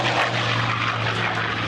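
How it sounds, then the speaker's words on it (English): A vintage piston-engine aircraft drones overhead at the Duxford Flying Legends airshow, a steady loud propeller roar with a strong low engine hum, close and without any voices. "These are the last of the piston engine flying machines before the jets arrived."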